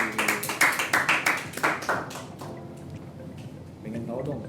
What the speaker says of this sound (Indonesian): Kita beri tepuk tangan buat Mas Dedi.